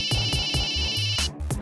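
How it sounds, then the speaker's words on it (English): A phone rings with a steady electronic tone over a pulsing beat of low thumps, loud and close, the ring cutting off abruptly near the end. "It started with a phone call."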